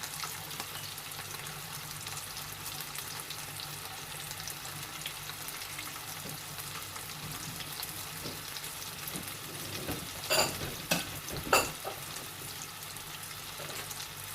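Cornflour mixture cooks in a pan over a medium flame with a steady, soft sizzling hiss throughout. Near the end a few brief scrapes and knocks come from stirring, with no speech.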